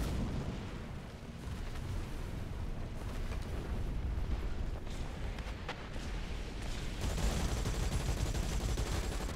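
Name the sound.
tank gun firing in War Thunder video game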